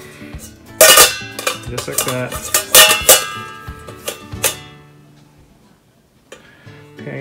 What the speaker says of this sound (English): But here's the steamer insert,